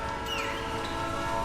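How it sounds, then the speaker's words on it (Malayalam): A train whistles inside a Roblox tunnel game, a sustained tonal blast held steadily over a dense rumbling background, loud and continuous throughout. "വിസിലടിക്കുന്നുണ്ട്, കേക്കാവോ?"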